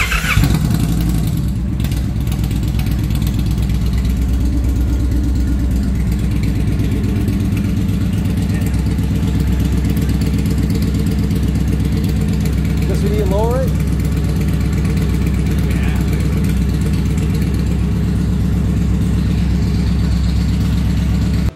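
A 2023 Indian Challenger motorcycle idles close by with a steady, even low engine throb throughout, as someone talks over it.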